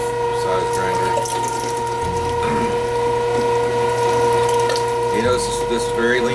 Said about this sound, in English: The number 5 size grinder.